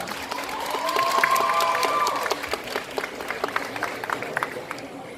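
Applause from a cosplay contest audience at JapaNantes, a dense wash of clapping with some cheering that swells early and carries on steadily throughout.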